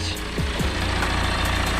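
A BMW E61 520d with the 2.0-litre N47 diesel engine idling after an oil and filter change, a steady low rumble heard close up and alone.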